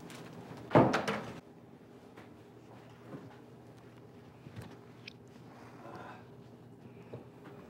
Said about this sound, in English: I'll close the door for privacy.